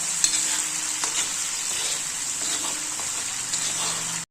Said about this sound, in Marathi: चांगला परतू द्यायचा मात्र बरं का